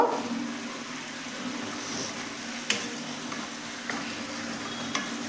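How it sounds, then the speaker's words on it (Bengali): Ground spices, Kashmiri chilli powder with salt, turmeric and sugar, frying in a pan for Bengali fish curry, a soft, steady sizzle with a few sharp clinks of the spoon as it is stirred. "কাশ্মীরি লঙ্কা গুঁড়ো দিচ্ছি একটু ভালো করে কষে নেব"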